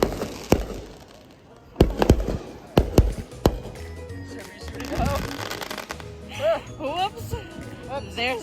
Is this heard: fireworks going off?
yes